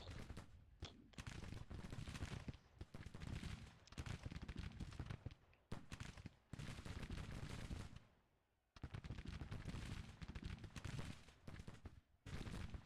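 Musket volleys and artillery fire from a Civil War-era video game battle between several brigades: dense, continuous crackling gunfire that pauses briefly a few times, with one longer lull near the middle before the heavy shooting resumes.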